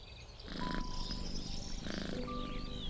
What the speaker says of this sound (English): Here is your cat, Sanjay.